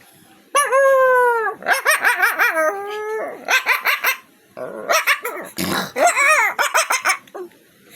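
A man imitates a dog with his voice, producing a run of close, loud barks, growls and howl-like yelps in rapid bursts, with short gaps between the phrases.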